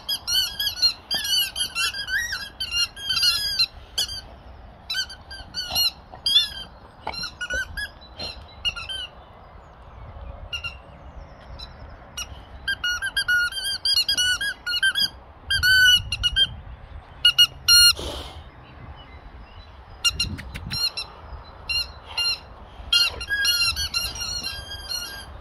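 A boxer dog works over squeaky toys, producing long runs of sharp, high rubber squeaks in quick bursts and rhythmic clusters, loud and close, with short pauses and occasional thumps between.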